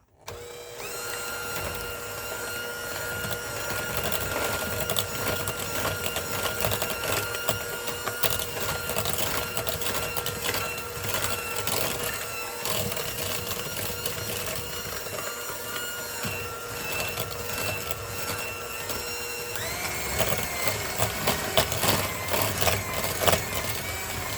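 An electric mixer whirs continuously through butterscotch bar batter with eggs and vanilla, a steady motor hum with a bright rattling, growing slightly louder toward the end; no speech.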